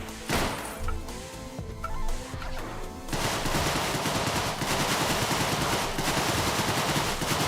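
A Tommy gun in the video game Deadbolt fires a few scattered shots, then breaks into sustained rapid automatic bursts that rattle on loudly to the end, with no talk.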